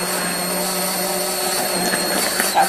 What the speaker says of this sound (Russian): и взбиваем блендером